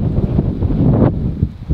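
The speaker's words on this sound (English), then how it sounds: "Actually, the swell isn't so big, but it is just so windy" Gale-force wind at Culburra Beach roars and buffets the microphone without a break, loud and close, with low rumbling gusts throughout.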